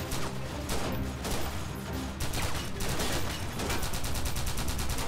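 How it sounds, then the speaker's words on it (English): A support gunner lays down sustained fire in Freeman: Guerrilla Warfare, rapid bursts of loud gunshots rattling steadily through the whole stretch, dense and close with little break between volleys. "You can hear that support gunner just going..."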